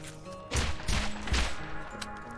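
Gunfire from a low-fire-rate weapon in the video game Borderlands, a few spaced, punchy shots in quick succession over game ambience and music tones.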